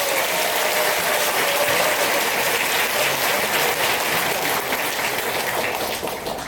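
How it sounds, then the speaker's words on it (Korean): A large audience at an investment strategy lecture event breaks into loud, continuous applause, a dense wash of clapping that holds steady for several seconds before tapering at the close. "큰 박수로 시작하겠습니다"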